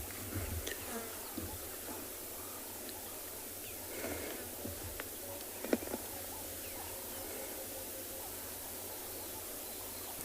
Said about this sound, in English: The lovely sounds that you can hear maybe are that of the grasshoppers and I'm not sure what species it is, maybe a rain locust going in the background